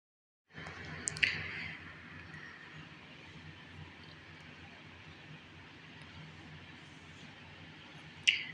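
Chopped onion goes into a hot pan for a kadai chicken, a sudden sizzle that flares, then settles into a faint, steady frying hiss, with a couple of sharp clicks of utensils.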